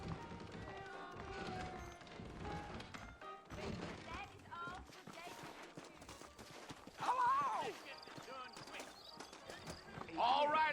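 Horse hooves clip-clop in a steady gait in the video game Red Dead Redemption, faint and mixed under in-game dialogue between characters.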